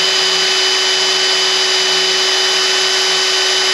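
Drill running at high speed through metal with a freshly sharpened bit, a loud, steady, continuous whine with a sustained tone throughout and no talk.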